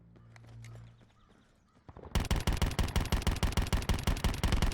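Rapid automatic gunfire from the video game Call of Duty Blackout bursts in suddenly after a quieter stretch of game noise, a loud, steady rattle of closely spaced shots that continues to the end.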